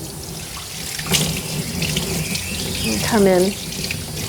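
Water rinses shampoo out of a small Coton de Tulear's coat during a full groom, a steady running-tap wash with brief splashes, close by, as a person speaks a few words over it.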